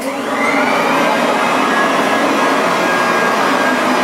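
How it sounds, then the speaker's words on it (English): A 67-pound pile lifter vacuum cleaner with a soft nylon brush drones steadily and loudly throughout on a rug, a dense, constant motor roar with a brushy hiss. "It's a 67-pound vacuum cleaner with a nice soft nylon brush, and it's pretty intense"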